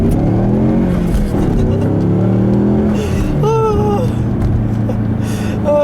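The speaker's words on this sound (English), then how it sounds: "I'll leave you guys with a nice little acceleration here," A Ford Mustang accelerates hard, its engine note climbing through the revs in a loud, rising roar with a clear gear change, heard from inside the car; a person briefly exclaims.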